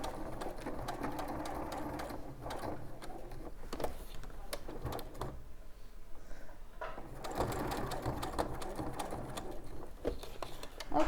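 Sewing machine stitching a weekend bag, a steady rapid mechanical whir running almost throughout, with a brief pause in the middle before it resumes and speeds up.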